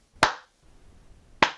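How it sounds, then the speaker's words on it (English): Two sharp, isolated hand claps about a second apart make a deliberately slow clap, loud and close against near silence. "slow 80s clap"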